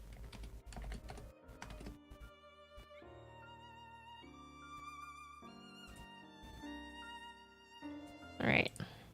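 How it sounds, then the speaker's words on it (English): Quick keyboard typing on a computer during a live stream, a run of light clicks over steady background music, with no talking. "I'm manually typing this."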